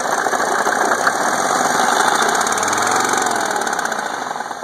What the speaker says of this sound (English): You can hear the pinging in it.